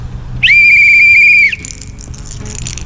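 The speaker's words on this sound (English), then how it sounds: "I forgot Adventure Sports gives everyone a whistle. That's to keep the bears away." A single loud, close blast of a safety whistle lasting about a second, carried on a Delaware River kayaking and rafting trip to keep bears away, followed by quieter background noise.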